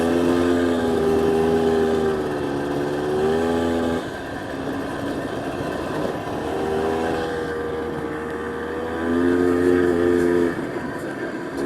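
The first ATV Polaris made, an old machine being ridden, gives a continuous loud engine drone that rises and falls in pitch as it pulls under load, with repeated revving swells and no speech.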